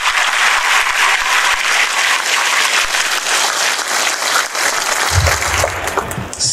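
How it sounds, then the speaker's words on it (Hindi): An audience in a hall gives loud, sustained applause to welcome the new Delhi Police commissioner at a police event, a dense unbroken wash of clapping, with a low thump near the end. "मैं सबसे पहले आप सबसे रिक्वेस्ट करूँगा कि तालियों के साथ सर का स्वागत किया जाए।"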